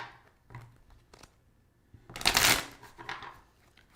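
Cards riffle-shuffled close by in one loud, rapid burst, with a few softer handling taps and clicks before and after.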